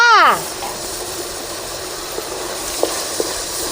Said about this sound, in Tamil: தக்காளி பழம் கொட்டி நல்லா செவக்க வறுத்துக்கலாம்